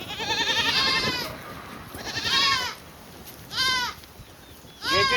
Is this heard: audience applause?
no